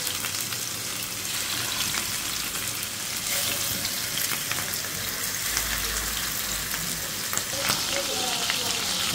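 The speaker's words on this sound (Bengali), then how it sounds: "ম্যারিনেশন করে মাংসটা রেখে দিয়েছিলাম বার্গারের, ওইটা এখন আমি হালকা তেলে ভেজে নিব" Marinated burger meat sizzling in a little oil in a pan, a steady bright crackle and hiss with scattered pops, moderately faint and continuous throughout.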